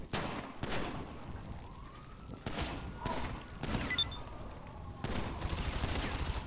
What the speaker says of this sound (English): Just start shooting on the ground.